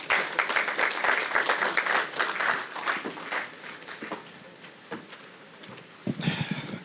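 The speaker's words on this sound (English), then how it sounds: "And a bigger hand clap, please." Audience applause at a political forum in Kenya's KANU Gardens, a dense burst of clapping that thins and tapers over several seconds before a brief final flurry.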